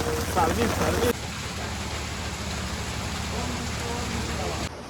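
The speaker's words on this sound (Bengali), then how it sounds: "বিশাল বৃষ্টি হচ্ছে বাইরে" Steady heavy rain hisses outside at night near Dublagadi sea beach, a dense, even wash of noise, with a brief burst of nearby voices at the start.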